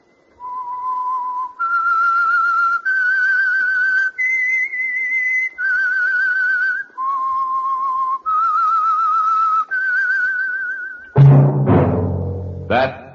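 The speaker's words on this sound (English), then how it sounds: "That whistle is your signal for the Signal Oil Program, The Whistler." A lone whistler performs the theme signal of the 1948 Signal Oil radio program The Whistler. A slow, eerie melody of clear sustained notes with slight vibrato ends in a sudden loud orchestral sting.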